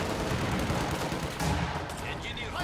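Rifle fire from G43-armed grenadiers in a real-time strategy game battle, a dense stream of rapid shots and battle noise under a commentator's voice, with a brief louder burst midway.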